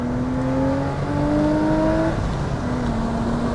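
A base model Porsche Boxster engine revs hard while accelerating, loud and close. Its rising tone climbs, drops at a gear shift, then climbs again, with no talking.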